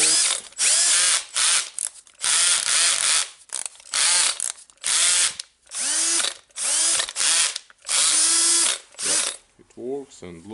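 A reassembled Milwaukee M18 cordless drill, fresh from a brush replacement, runs in repeated bursts of about a second each. It whirs up and spins down loudly and close by, with short pauses between the runs.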